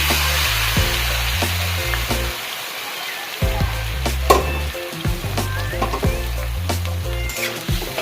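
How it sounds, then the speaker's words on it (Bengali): Spice-coated pumpkin greens hiss and sizzle in a hot wok, with scraping stirs and clatters over a steady low musical background. "সেই শাকটা কড়াইয়ের মধ্যে দিয়ে দিচ্ছি"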